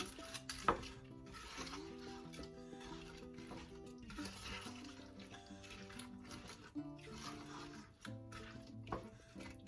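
Kadhi with pakoras is stirred in a pot, giving soft wet scraping and sloshing that runs steadily under a louder bed of tonal background music, with no talking.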